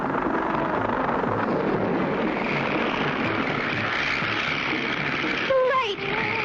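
A cartoon airplane engine drones steadily and loudly the whole way through, with a short voiced sound near the end.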